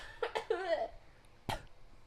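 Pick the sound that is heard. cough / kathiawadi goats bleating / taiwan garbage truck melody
cough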